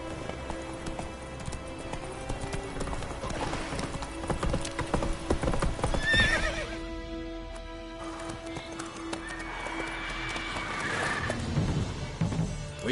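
Horse hooves trotting in the video game The Witcher 3, a steady clip-clop rhythm up close, with a horse whinnying partway through and game sounds underneath.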